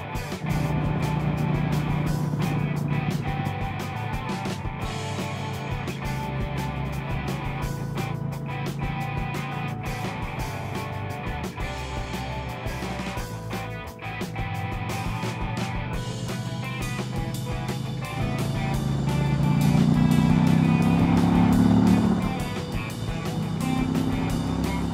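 Indian Challenger motorcycle cruising on a winding country road near Baltimore reservoirs, a steady engine drone with wind rush throughout and a brief swell in revs near the end.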